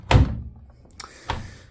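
A Hotpoint integrated washing machine door unlocking after an aborted cycle: a firm plastic thunk, then a small tap and a second softer clunk of the latch releasing, close and without speech.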